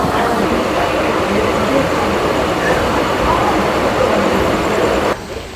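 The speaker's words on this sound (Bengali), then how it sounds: "9:15 আমাদের ট্রেন সাঁতরাগাছি স্টেশনে ঢুকলো।" A local train pulls into Santragachi station on the Howrah line, a steady broadband rumble of wheels and rail noise close by, holding constant for several seconds before dropping off at the end.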